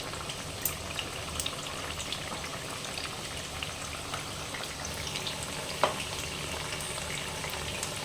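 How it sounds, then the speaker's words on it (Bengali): Eggplant frying in hot oil in a pan: a steady, close crackling sizzle with small pops throughout, carrying on alone without talk. "এইভাবে এটাকে ভেজে নেব ভালোভাবে।"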